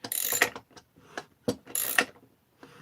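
A ratchet wrench clicks in several quick bursts of pawl ratcheting, close and clear with short pauses between strokes, while working on a Husqvarna 288XP chainsaw crankcase assembly.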